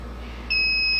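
A conventional MS2 fire alarm control panel starts a steady electronic beep about halfway through, a continuous two-tone signal that is close and clear over a low background hum.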